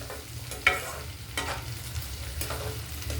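Okra and potato pieces fry in a pan with a steady close sizzle, broken by a few scraping stirs of a spatula; no voices.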